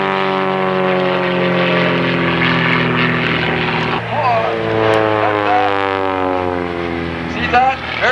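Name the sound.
small aerobatic propeller airplane flying at airshow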